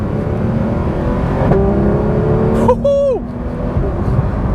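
A Porsche 911 GT3 RS engine revs during a downshift to fourth gear, a quick rising blip over a steady cabin drone, heard close from inside the car.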